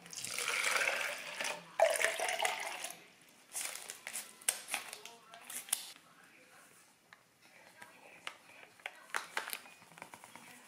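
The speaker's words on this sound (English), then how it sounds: "Pour 2 cups of warm water into the cup." Warm water is poured into a large plastic cup in bursts, splashing near and clear, followed by scattered clinks and handling noises; a voice talks over parts of it.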